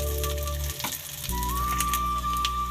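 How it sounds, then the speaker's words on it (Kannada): Tamarind and spices fry in a pan with a steady close sizzle, under a constant tonal hum from a nearby appliance such as a kitchen fan or burner. "ಹುಣಸೆಹಣ್ಣು ಸಹ ಹಾಕ್ತಾಯಿದ್ದೀನಿ. ಇದನ್ನು ಸಹ ಫ್ರೈ ಮಾಡ್ಕೊಳ್ಳಿ."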